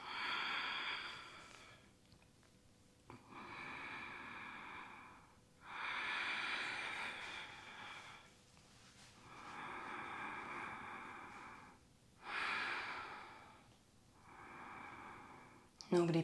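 Deep, audible breaths during a seated yoga twist in a detox cleansing session, long inhales and exhales repeating in slow rhythmic swells, close to the mic, with a voice talking between the breaths.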